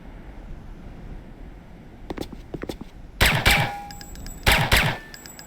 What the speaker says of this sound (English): This first weapon is the Vervac Commando Elite Falcon automatic pistol.